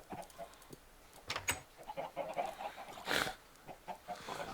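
Chickens cluck in the Agrarian Skies video game, with a handful of short, sharp calls scattered over a steady low background and one louder burst near the end; no one speaks.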